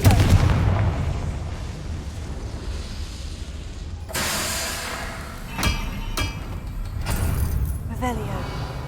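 A Confringo fire spell cast in the Hogwarts Legacy video game: a sudden burst of whooshing blast at mid-clip followed by several sharp cracking hits and impacts over a low rumbling game background.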